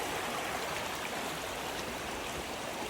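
Dense, unbroken roar of a high, rain-swollen river at a trail crossing in Patagonia, loud and near, flowing evenly without pauses or voices.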